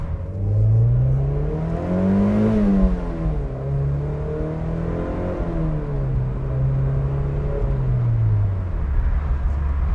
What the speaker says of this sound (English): You can go part throttle and still accelerate pretty quickly.